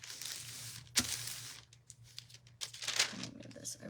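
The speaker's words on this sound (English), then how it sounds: "I'm just going to fold that paper over it." Parchment paper folded over sublimation earrings laid face down: crisp crinkling and rustling in short bursts with a sharp crackle, close and fairly quiet.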